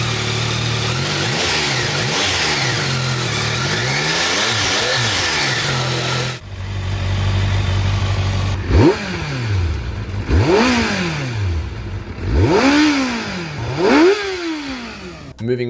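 Two stock-exhaust sport bikes, a Yamaha R9 and a Kawasaki ZX6R, rev loudly close by: a rising, wavering engine run first, then a short pause, then four sharp rev blips climbing and falling in turn, with no talk.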